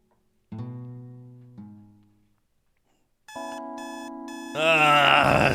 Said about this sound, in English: I swat at my phone to switch off the alarm.